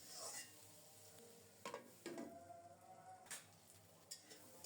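Garlic, onion and jackfruit seeds fry in a pan, giving a quiet sizzle broken by a few brief scraping stirs and light clinks of the spoon.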